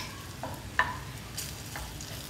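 Fresh spinach goes into a hot frying pan with crispy browned chicken, giving a soft, low sizzle broken by a few light stirring scrapes and taps, fairly quiet.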